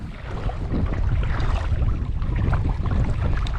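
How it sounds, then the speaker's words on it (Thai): Strong wind buffeting the microphone on a reservoir while fishing from a boat, a steady loud roaring rumble that fills the whole stretch without pause, with no voices. "ลมมันแรงครับวันนี้ครับ"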